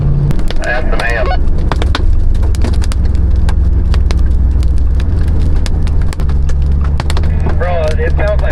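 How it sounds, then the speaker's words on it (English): Hail pelts a moving vehicle, a dense, loud barrage of sharp cracking impacts over a low engine rumble, with occasional bursts of radio chatter. "That's some hail."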